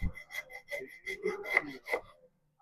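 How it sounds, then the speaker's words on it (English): A mini hacksaw cuts with a quick, uneven rasping rhythm of short back-and-forth strokes, close and fairly quiet, about seven strokes before it stops. "But we're gonna use this hacksaw and see how"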